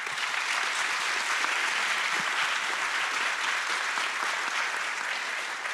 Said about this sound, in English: I would like everyone to give a round of applause to our young challenger